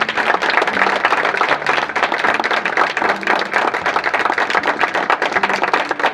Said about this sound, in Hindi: क्या हम एक जोरदार ताली बजाकर आज के वचन का वेलकम कर सकते हैं?